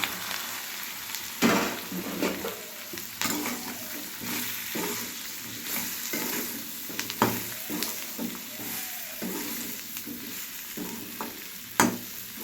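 Okra tossed into hot oil with cumin seeds and asafoetida, giving a steady close sizzle with sharp bursts as pieces hit the pan and stirring scrapes recurring throughout, no voices.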